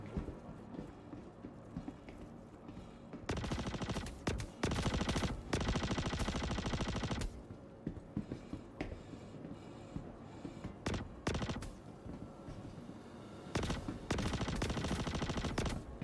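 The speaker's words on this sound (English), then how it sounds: "Was that you shooting from behind?" Gunfire in an online shooter video game, with long automatic bursts and scattered single shots at varying distances, fairly loud, separated by quieter stretches of background game ambience.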